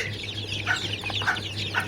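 Brahma chicks make a series of high, short peeps and chirps over a steady low hum, several overlapping at close range.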